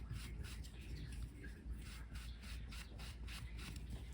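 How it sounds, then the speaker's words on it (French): Rhythmic, soft scrubbing strokes of a stamping brush being cleaned, about a dozen quick rasping rubs close by and quiet, with no voices. "Le temps que je nettoie ma brosse"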